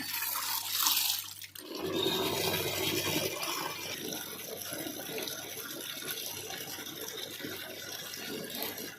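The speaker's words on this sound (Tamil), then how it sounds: "பாத்திரமெல்லாம் கழுவியாச்சுங்க" Water runs from a tap while dishes are washed, a steady close splashing rush that follows a brief low hum at the start and carries on without talk.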